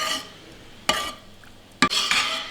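A spoon stirs a pot of lentil and dill saaru with chopped coriander just added, giving soft scraping strokes and two sharp clinks against the metal rim.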